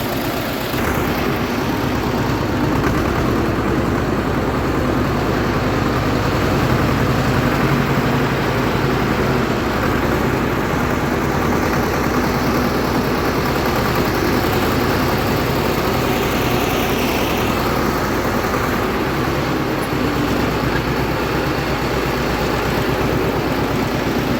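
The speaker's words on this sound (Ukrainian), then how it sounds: "зараз спробуємо витягнути два трактори" Two tractors working together to pull out a load stuck in mud, engines droning steadily at close range throughout with no talk.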